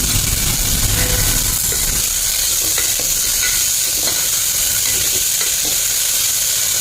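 Carrot and potato sautéing with salt in a pan for yellow rice, a loud, dense sizzle with repeated scraping stirs throughout, close up and without voices.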